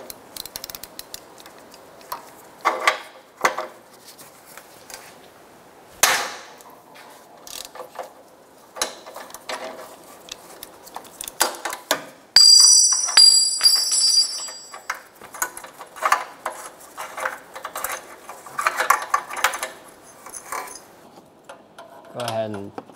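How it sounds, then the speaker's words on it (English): A 22 mm wrench loosens the downstream O2 sensor on a 2012-2016 Subaru Impreza. Close, scattered metallic clicks and scrapes come throughout, with a brief denser burst of clinking midway. "Using a 22 millimeter wrench or O2 socket, remove the O2 sensor."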